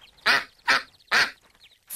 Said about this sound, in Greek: Ωου, μία πάπια!